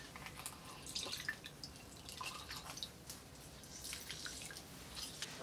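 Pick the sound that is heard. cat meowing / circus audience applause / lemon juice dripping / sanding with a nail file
lemon juice dripping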